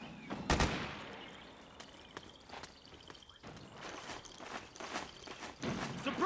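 Gunfire in the stealth action game Metal Gear Solid 4: one sharp, loud shot, then scattered quieter reports and short bursts mixed with shuffling movement, all fairly distant and irregular.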